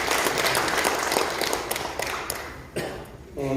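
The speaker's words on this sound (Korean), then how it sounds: "우리 박수로 격려하겠습니다." Steady congregation applause fills a church, dense and continuous, fading slightly toward the end before a brief voice cuts in.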